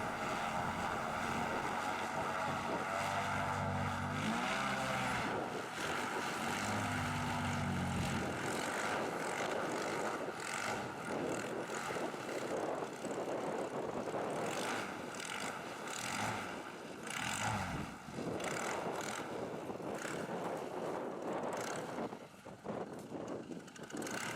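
An airboat's aircraft-style engine and propeller roar steadily and loudly at close range for the whole stretch, driving along a steep levee and ditch in Florida, with shifting pitch as it maneuvers.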